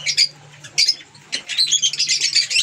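A hand-fed lutino bird chick calls in short raspy chirps and squawks, close and fairly loud, in uneven bursts that grow more continuous toward the end over a faint low hum.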